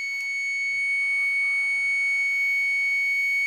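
A multimeter gives a continuous high-pitched continuity beep while probing a MOSFET in a desktop motherboard VRM circuit, a steady tone that holds through the whole clip, with faint low handling noises underneath.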